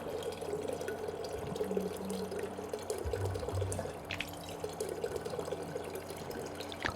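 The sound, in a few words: leaking water dripping in the video game Prey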